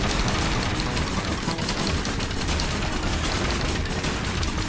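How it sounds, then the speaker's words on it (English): Cannons fire in The Messenger boss fight, a dense, loud, continuous volley of rapid blasts and clatter with no speech. "Go for the cannons."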